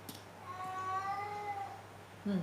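A house cat meows in a long, drawn-out call indoors, close and fairly loud, with a steady background hum underneath and no speech.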